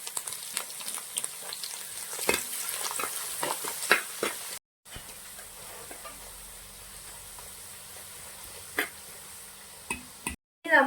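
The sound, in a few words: garlic and ginger sautéing in a pan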